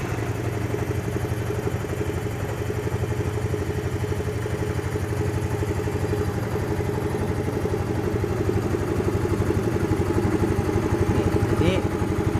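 Motorcycle engine cranked by its electric starter and settling into a steady, even idle, close and fairly loud, with a constant mechanical clatter running throughout.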